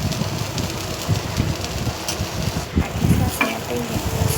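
Masala corn being stirred with turmeric and spice powder in a pan, a steady low scraping and shuffling with soft rhythmic strokes and a faint sizzle underneath, close and moderately loud.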